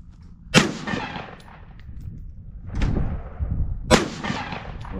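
Three loud gunshots fired at a piece of plastic in an open field, each a sharp crack with a booming rumbling tail, spaced unevenly a second or more apart.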